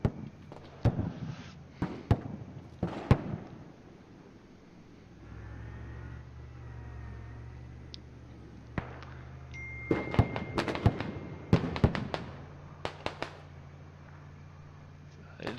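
Explosions in the video game Squad as a tank's ammunition is hit, with sharp bursts and bangs clustered near the start and again toward the end over a steady low engine rumble.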